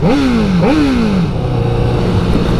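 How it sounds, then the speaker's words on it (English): A Honda CBR1000RR Fireblade with a megaphone exhaust revs sharply twice, its loud exhaust note rising and falling, then drops back to a throaty, burbling idle. "This particular one which I'm riding has got a Leowin's megaphone exhaust to amplify that soundtrack"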